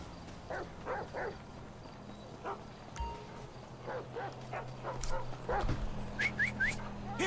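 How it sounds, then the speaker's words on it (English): A dog barks repeatedly in GTA 5, short yaps at mid distance under a constant ambient game hum, with some clopping and a few whiny higher yips toward the end. "Is that a girl with a dog?"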